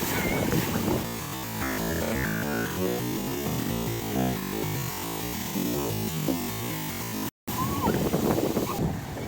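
Rough sea surf crashing continuously with a broad roar on a beach in Odesa, gusts of wind buffeting the microphone, and a brief dropout near the end.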